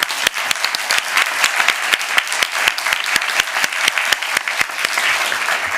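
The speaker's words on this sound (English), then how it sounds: "big round of applause for our staff, yes." A Burbank City Council reorganization meeting audience gives city staff a steady round of applause, with dense, close clapping throughout and sharp individual claps standing out.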